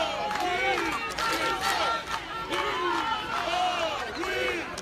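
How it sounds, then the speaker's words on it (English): Youth football crowd at a U10 tournament match chanting loudly in rhythmic repeated waves of massed voices, parents joining in, close and continuous just before kick-off. "Familiar chant going on"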